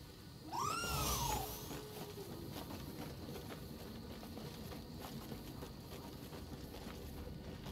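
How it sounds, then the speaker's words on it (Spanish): A cat lets out a clear, rising-and-falling meow near the start, loud and close, followed by a quieter stretch of faint background noise and rustling. "¡Ay, el gato!"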